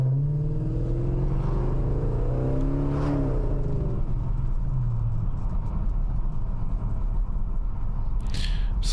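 A BMW E38 750i V12 engine hums and revs with a rising, sweeping tone, steady and close, as from inside the car, with a brief rustle near the end.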